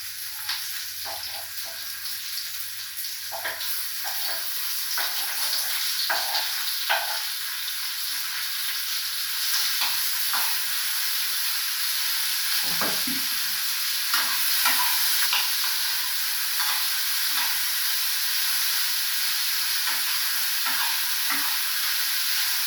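Tomatoes stir-frying in a hot pan for a home-cooked lunch: a steady hissing sizzle runs throughout, broken by frequent scraping and clacking strokes of a spatula stirring the pan, close and continuous.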